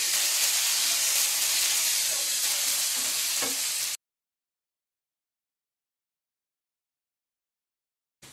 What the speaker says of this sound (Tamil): நல்லா கிளறி விடுங்க. நல்லா மிக்ஸ் பண்ணுங்க.